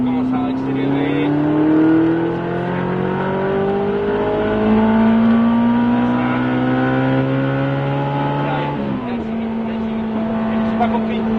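A race car accelerates on a circuit at spring racing in Albi. The engine note climbs through several gears, with a shift near the end, loud and close like an onboard recording.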